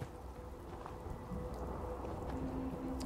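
Continuous rain falls in the video game Fallout 4 in a dense, even hiss, with a low rumble underneath and no voices.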